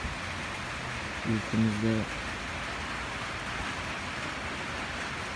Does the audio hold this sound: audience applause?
no